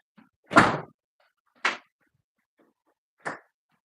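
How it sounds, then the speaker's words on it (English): A front door opening, heard as three separate knocks or thuds: one louder and longer near the start, then two shorter, fainter ones spaced over a few seconds, with near silence between them. "Front door open."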